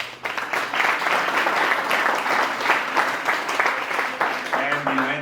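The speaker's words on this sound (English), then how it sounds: "We'd like to give a big round of applause to Jose Luis." An audience claps steadily in sustained applause, a loud wash of many hands that continues throughout with a voice faintly audible near the end.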